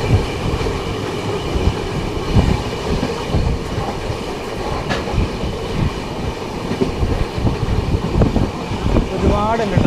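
A passenger train moving through farmland on the Madurai to Theni route, heard from inside as a loud, steady rumble with rhythmic clickety-clack of the wheels and occasional squeals, along with faint indistinct voices.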